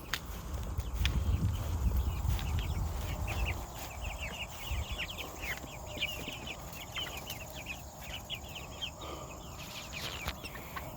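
Farmyard chickens and a rooster clucking in rapid bursts, faint and somewhat distant over a low rumbling background, with the clucking continuing steadily through most of the eleven seconds.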